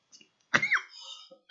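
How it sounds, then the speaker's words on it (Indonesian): A teacher coughs during a Quran lesson, one sharp close cough followed by a short raspy trailing breath and a small throat sound, alone in an otherwise quiet room. "Guru sudah batuk-batuk"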